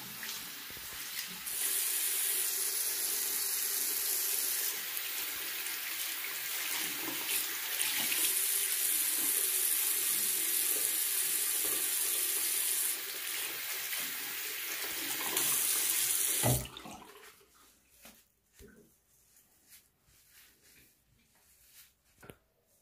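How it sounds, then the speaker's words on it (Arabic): Water runs steadily from a tap for face washing, a continuous close hiss of flow that stops abruptly near the end, leaving quiet handling noises. "غنغسل بعدا هكا بالماء سخون"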